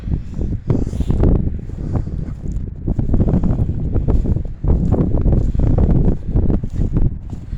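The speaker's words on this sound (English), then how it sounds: "I don't know how much more wind I can handle" Strong wind gusts across an open cemetery, roaring and buffeting the microphone almost continuously with a brief dip midway.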